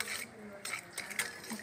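A spoon clinks and scrapes against a bowl as yeast is stirred into milk, a few quick close metallic taps and swirls over a faint background.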